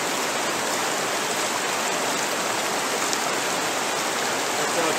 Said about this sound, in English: Rinse out your tube. Stick your hand inside here. Rinse that out really good.